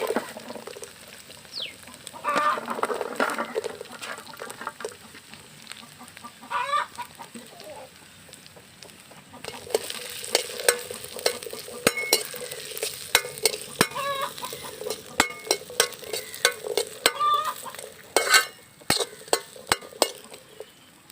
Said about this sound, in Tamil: சின்ன வெங்காயம் போட்டுக்கலாம்.